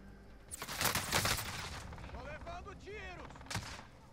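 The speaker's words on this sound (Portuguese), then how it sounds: "nossa, eu tomei tiro aqui atrás" Gunfire in the video game Call of Duty Warzone: a dense burst of rapid shots followed by a shorter, sharp volley later, mixed with warbling in-game sounds and faint voices.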